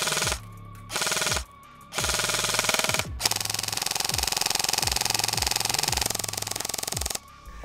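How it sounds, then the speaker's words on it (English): Mayo Gang MGC4 airsoft AEG, Mark II and Mark I versions, firing full-auto bursts: two short separate bursts, then one long sustained volley of rapid motor-driven cycling, loud and close, with no talking. "here's a comparison between the rate of fire between the Mark II and the Mark I."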